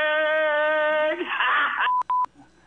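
Telephone dialing tones ring out on a live call-in show: a sustained electronic tone gives way to a short burst of noise, then three quick, crisp beeps close together.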